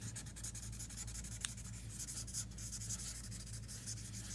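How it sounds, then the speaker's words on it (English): A blade cutting away part of a paper stencil for pop art, giving a quiet, steady scratchy scraping with one brief sharp tick, close and alone with no talk. "So I'm going to cut that away."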